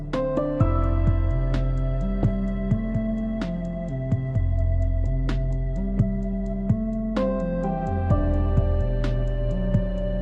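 A steady electronic track from the Minecraft soundtrack, with a deep sustained bass line, stepping chords and regular bright percussive hits, played loud and continuous.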